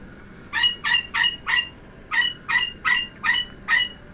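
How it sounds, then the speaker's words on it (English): A pet bird calls loudly in rhythmic bursts of sharp, bright notes, four of them, a short pause, then five more, close and clear with no talking. "Wait for the bird to finish."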